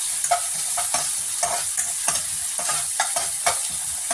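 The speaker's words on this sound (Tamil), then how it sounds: "அந்த இஞ்சி பூண்டு பேஸ்ட்டோட பச்சை வாசனை போகிற வரைக்கும் வதக்கி விட்டுக்கலாம்." Ginger garlic paste sautéing in a pan, a steady close sizzle broken by repeated scraping strokes of a spoon stirring at an even rhythm, with no voices.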